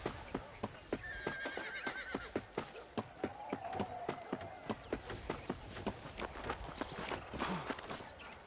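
Horse whinnies and a steady clip-clop of hooves in Red Dead Redemption, the regular hoofbeats close and clear throughout with a drawn-out neigh rising over them.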